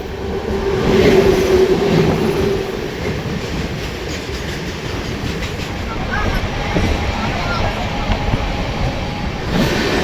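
The 13301 Swarnarekha Express rolls toward Purulia with a continuous rumble, rattling carriages and faint wheel clatter heard from on board, and a voice speaking briefly over it.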